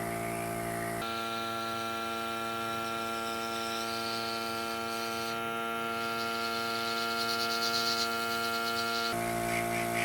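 A Temptu airbrush system spraying makeup close to the face gives a steady, faint electric hum with a whining tonal buzz, starting abruptly after a second and cutting off just before the end.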